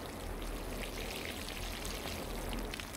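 Water pours steadily onto a plant in the game Clap Clap, a constant soft splashing stream that runs unbroken and fairly quiet for the whole stretch.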